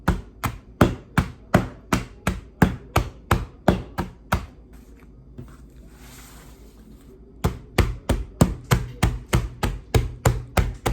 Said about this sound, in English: I'm just gonna tap them on the surface of the table to release any air that the cakes have in them.